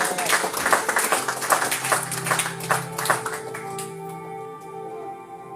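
Dense applause from a crowd, many hands clapping steadily for several seconds before fading into a lingering tone.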